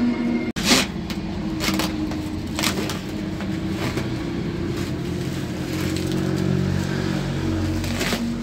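A vehicle's engine idles steadily with a low, even rumble for the whole stretch, a single sharp click near the start and no talking.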